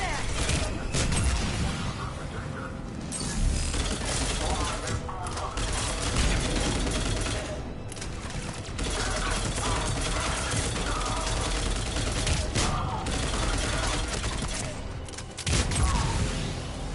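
Sustained gunfire from Cerberus troops attacking a checkpoint in Mass Effect 3, a dense, continuous battle din of rapid shots and mechanical clatter with brief gaps, loud and close throughout, with voices mixed in.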